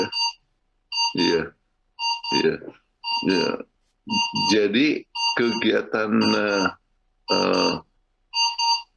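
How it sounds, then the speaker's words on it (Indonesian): An alarm rings in a hotel room, a repeating electronic tone in short regular bursts that keeps sounding through a man's lecture, with speech heard between and over the beeps. "Alarm berbunyi, maafkan."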